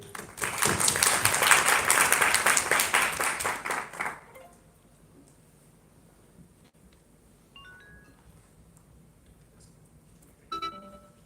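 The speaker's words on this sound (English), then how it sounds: "please have a round of applause for Mr. Ray" A university presentation audience gives a loud round of applause for a speaker at a business and medical programme session; it lasts about four seconds, then cuts off abruptly, leaving quiet room noise and a few small taps.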